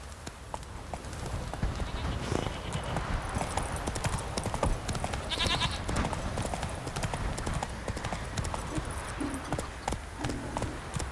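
Horse hooves in The Witcher 3 clip-clop at a steady rhythmic gait, close and continuous over a low rumbling background, with faint animal bleats and no clear speech.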